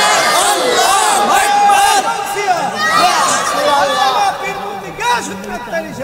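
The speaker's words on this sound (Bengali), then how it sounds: "একটা স্লোগান দেন তো ইনশাআল্লাহ" A large crowd of young men at a Ramadan sermon gathering loudly chants the slogan Allahu Akbar, many overlapping voices shouting together in close, dense waves.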